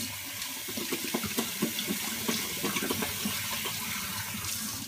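Water runs steadily from a bathroom tap into a sink while a man rinses his face and beard, with soft irregular splashes and hand sounds close by and no talking.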